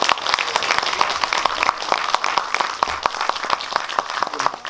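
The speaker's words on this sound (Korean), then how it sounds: "감독님께 큰 박수 한번 쳐주시고" A theater audience at Megabox COEX hall 10, at a talk event for the film 'Noryang', gives director Kim Han-min a dense, sustained round of applause that carries on to the end.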